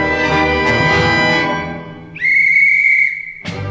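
A referee's whistle blows one sustained shrill blast at an ice hockey game. Before it comes a loud, dense wash of other sound, and a brief burst follows after the whistle cuts off.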